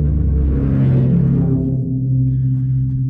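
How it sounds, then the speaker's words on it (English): A whale-like sound played on a bass drum: a deep, sustained low moan with a rising and falling tone, resonant and droning, loud throughout with no talking. "Whale sound on a bass drum."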